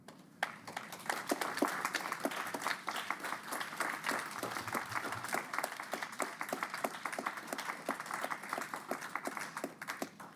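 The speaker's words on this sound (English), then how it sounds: "A round of applause for you." Steady applause from a crowd, a dense patter of many hands clapping continuously at moderate volume, slightly distant.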